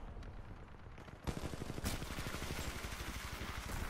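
Rapid automatic gunfire in Titanfall 2, a dense burst of closely spaced shots starting abruptly after a quiet moment, with a sharp crack midway, loud and sustained to the end.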